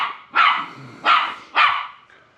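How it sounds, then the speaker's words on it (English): A rat terrier barks three times in sharp, evenly spaced bursts, close and clear against a quiet background. "I decided rat terriers were the coolest dog ever."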